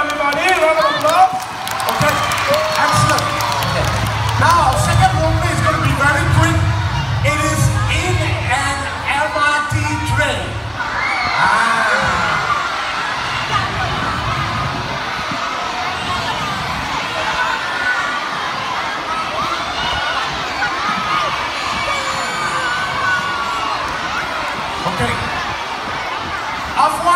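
An audience gives a round of applause and cheers at a community gathering, crowd noise swelling loud and close for several seconds, then settling into a lower murmur of chatter and clapping that carries on to the end.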